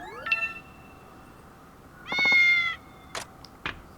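A cat in the samurai-era video game Like A Dragon Ishin gives a few short meows amid soft game chimes and tones, clear and close, with no talking.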